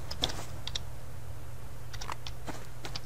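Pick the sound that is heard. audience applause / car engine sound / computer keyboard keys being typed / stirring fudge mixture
computer keyboard keys being typed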